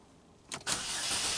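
A Pontiac G6 engine cranks briefly and catches, then settles into a steady close-up idle after a short whirring start.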